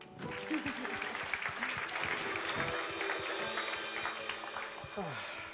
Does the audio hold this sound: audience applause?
yes